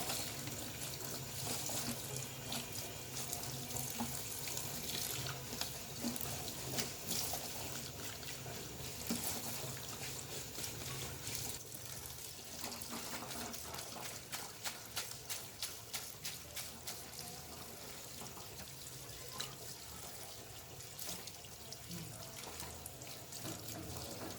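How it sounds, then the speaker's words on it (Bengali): Running tap water splashes steadily over fresh coriander leaves being rinsed in a sink, a continuous close hiss of flowing water with faint handling clatter throughout. "এবার ধনেপাতা ৩-৪ বার ভালো করে ধুয়ে নিচ্ছি।"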